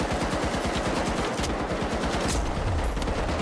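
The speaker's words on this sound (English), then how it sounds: "I hear gunshots, but where is it?" Rapid bursts of automatic gunfire in the online shooter game The Finals rattle in quick succession, moderately loud and fairly close, with no talk over them.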